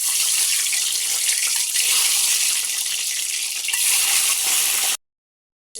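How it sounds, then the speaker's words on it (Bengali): Peeled eggs frying in a pan over a clay stove, a steady loud broadband sizzle that continues for about five seconds before cutting to silence, with a brief burst of sizzle returning at the end. "এখন ওগুলো ভেজে নেব।"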